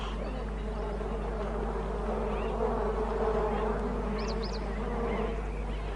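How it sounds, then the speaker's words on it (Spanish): Bees drone steadily around an African water hole where a lioness comes to drink, a constant buzzing hum over a faint outdoor background. "pero está lleno de abejas"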